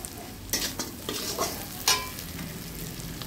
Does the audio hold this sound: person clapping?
no